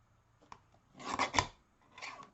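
Scissors snip through a piece of card tile stock at a papercraft desk, a small click followed by a quick series of close, crisp rasping cuts, then one more short snip, quiet and without talk.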